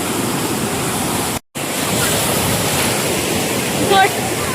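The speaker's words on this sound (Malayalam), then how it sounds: "ഞങ്ങൾ നിൽക്കുന്ന ഒരു ഏരിയ നല്ല രീതിയിൽ വെള്ളം ഇങ്ങനെ വരുന്നൊരു സ്ഥലം." Waves wash in continuously at Kozhikode beach, a loud steady roar of surf filling the clip with one brief dropout, and a faint voice near the end.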